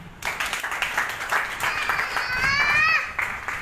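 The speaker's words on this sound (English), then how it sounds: "Clap for her." A church congregation claps for Queen Esther, steady and fairly loud throughout, mixed with lively crowd voices, and a rising whistle-like tone rings out near the end.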